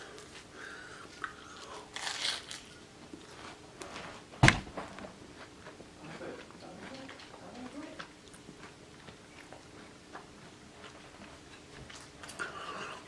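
Someone bites into a lobster grilled cheese sandwich with a sharp crunch, followed by soft, irregular chewing and smacking sounds close by over a quiet background.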